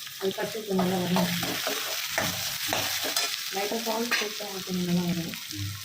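Onions and aromatics sauté for a quail egg thokku, a steady sizzle in the pan broken by repeated scraping stirs of the spatula, close and clear with no talking.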